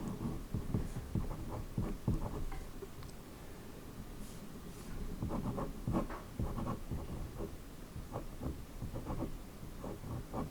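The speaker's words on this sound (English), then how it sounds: "pen's not writing well." A pen scratches across paper while working out thermodynamics notes on the Boltzmann constant, with short irregular strokes and taps close by, fairly quiet and with no talk.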